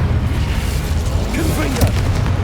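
A Confringo fire spell in Hogwarts Legacy bursts with a deep boom over continuous loud game combat noise.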